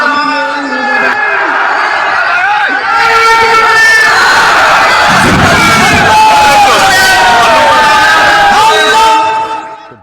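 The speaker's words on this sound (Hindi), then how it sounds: "देख रहे हैं भीड़, देखिए लोग छतों पर, खिड़कियों पर, बालकनी में," A large crowd packed onto rooftops, windows, balconies and trees roars loudly and continuously with shouts, chants and cheering, a dense wall of voices with a reporter talking over it.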